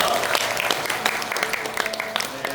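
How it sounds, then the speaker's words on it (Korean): A church congregation applauding during a Sunday worship service, dense continuous clapping from many people with sharp individual claps standing out, fairly loud and close. "우리 하나님의 영광의 박수를 드리겠습니다"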